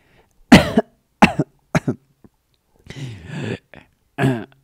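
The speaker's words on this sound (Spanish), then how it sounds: "carraspeó" Several short, rough throat clearings come in separate bursts with brief silences between, close and dry, ending with one more clearing.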